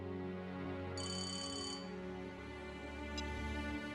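A phone rings at close range in a quiet domestic indoor scene, a bright repeating electronic ringtone burst sounding alone with no voices over it.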